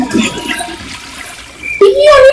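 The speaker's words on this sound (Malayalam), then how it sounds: "നമുക്ക് ടോയ്ലറ്റ് ഫ്ലഷ് ചെയ്യാം." A toilet flush in the video game Granny 3 rushes and gurgles loudly, ending in a rising tone near the end of the short burst.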